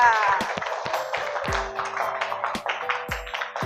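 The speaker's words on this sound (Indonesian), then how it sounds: "Tepuk tangan dulu dong untuk Mazaya" A classroom of students claps for a classmate in short, scattered bursts of taps and claps, mixed with voices and a teacher talking.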